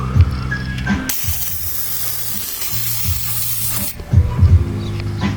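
An aerosol can of Blaster penetrating oil sprays onto rusty exhaust bolts on a 2000 Subaru Outback, a loud close hissing burst lasting about three seconds, framed by metallic clunks and rattling of the can.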